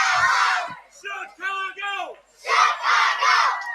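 Crowd at a kids' golf world championship parade of nations, shouting and yelling in bursts led by the Illinois cheering captain, with chant-like calls between loud group cheers.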